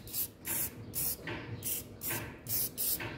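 Penetrating lubricant sprayed from an aerosol can onto stubborn nuts on a Chevrolet Ecotec 1.4 turbo engine, seven short hissing bursts in a steady rhythm, close and fairly loud with no talk.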